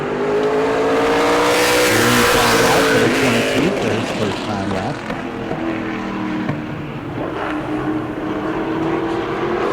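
A super late model race car laps the track during qualifying at New Smyrna, its engine roaring loudly as it passes close by, the pitch sliding down as it moves away, with a brief voice over the noise.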